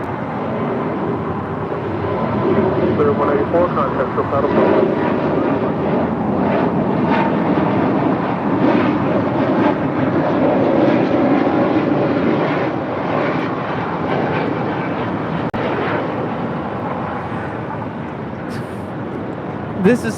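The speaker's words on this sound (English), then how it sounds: "This is Spirit Airlines 184 departing to Cleveland, Ohio on an A320 Neo." A Spirit Airlines Airbus A320neo departs in a sustained, loud engine roar that stays steady and close throughout, with faint background chatter mixed in.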